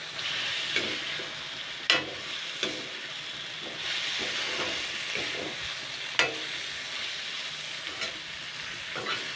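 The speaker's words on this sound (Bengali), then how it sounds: "এবার এটাকে দিয়ে সুন্দর করে কষাবো 2 থেকে 3 মিনিট, বেশি না।" Spice masala for kudri aloo curry sautéed in a pan over medium heat, a continuous close sizzle broken by sharp scraping strokes of a spatula every couple of seconds.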